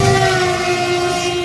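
A nearly empty passenger train running in Tripura toward Dharmanagar, heard as a loud, steady rumble with a sustained horn-like tone held throughout.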